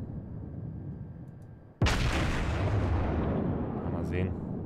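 A battleship's main guns firing in a World of Warships naval battle: one sudden loud boom that rolls into a long, dense rumble, heard close up.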